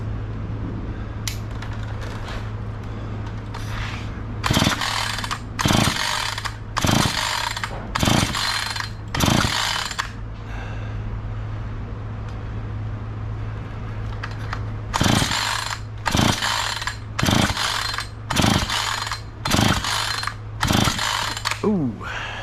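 A Husqvarna chainsaw is pull-started with the choke on, a series of repeated rhythmic rope pulls in two bursts of about five to six each, over a constant low engine-like hum, close and fairly loud.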